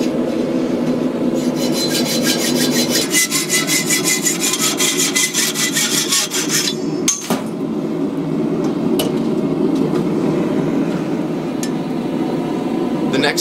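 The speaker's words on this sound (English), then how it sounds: "I'm just going to use a hacksaw to cut it off" A hacksaw cuts through a piece of rebar in steady, rapid back-and-forth strokes, loud and close, with a brief pause midway before the rasping grind resumes.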